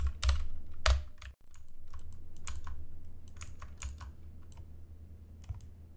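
Keys tapped on a computer keyboard, including the F2 key, while working in music production software: scattered sharp clicks, a couple louder strikes early, then lighter irregular taps at close range without speech.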